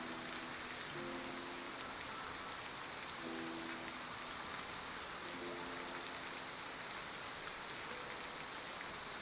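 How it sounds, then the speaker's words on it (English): Rain falls in a dense, unbroken hiss, faint but constant, with soft low tones surfacing briefly every couple of seconds beneath it. "We'll leave once the rain stops."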